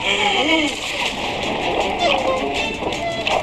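Water splashes and gushes out in a lively outdoor challenge, a continuous bright spray and sloshing heard close, with excited voices talking over it throughout.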